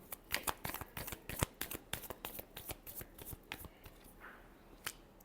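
A deck of tarot cards is shuffled by hand, a quick run of crisp, close riffling snaps and flicks that tapers off toward the end.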